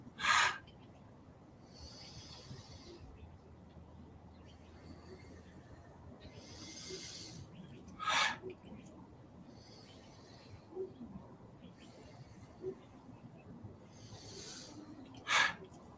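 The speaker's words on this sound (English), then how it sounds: "Breathe in, let it out." Slow, deep breaths drawn in and let out at a relaxed pace, a few breathy bursts standing out over a quiet, hissy room.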